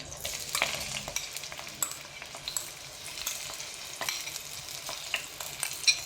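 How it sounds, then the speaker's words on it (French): Chopped onion frying in olive oil in a tagine, a steady close sizzle and crackle with occasional light clicks and scrapes as it cooks, alone without voices. "Maintenant, je vais mettre tout l'oignon."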